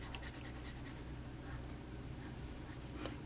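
Pilot Silvern Jaguar fountain pen with a medium 18 karat nib scratching across paper, soft close strokes in quick bursts over a faint background hum.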